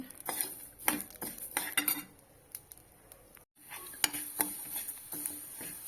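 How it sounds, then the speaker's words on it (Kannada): Moong dal roasting in ghee over medium heat for hesaru bele payasa, heard as quiet, irregular clinks and scrapes of a spoon against the pan with a faint sizzle and a short pause midway. "ತುಪ್ಪ ಹಾಕಿ ಹುರ್ಕೊಂಡ್ರೆ ರುಚಿ ಚಲೋ ಬರ್ತದ"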